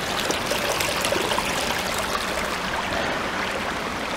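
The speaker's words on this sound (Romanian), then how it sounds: "străbătută de acest râu frumos cu o cascadă, cascada Ghioara, de pe Valea Mare" A beautiful river flowing through a fully protected nature reserve on Valea Mare in Banat, near the Ghioara waterfall, gives a steady, full rush of running and splashing water that fills the whole clip, close and continuous, with no voices.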